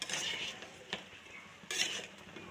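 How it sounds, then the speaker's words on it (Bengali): Meat is stirred in a cooking pot, a spoon scraping and clinking against the metal in a few quiet, brief strokes with soft sizzling beneath. "মাংসটা একটু আমি নেড়ে দেবো, ভালো করে কষিয়ে নিতে হবে।"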